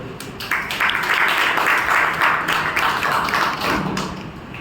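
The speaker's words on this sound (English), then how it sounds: "with a big round of applause, please help me welcome Toastmaster Ishwar" A Toastmasters club meeting audience gives a round of applause to welcome a speaker: a sustained wash of many hands clapping, moderately loud and evenly spread, rising quickly and tapering off near the end.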